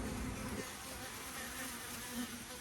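Honeybees hum in a dense, continuous buzz at the entrance of a hive, bringing in yellow pollen; the sound is steady and faint, with no voices.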